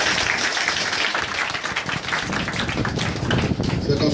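A church congregation at the Peniel centre in Divo applauds, with dense, sustained clapping and cheering filling the room and voices mixed in throughout.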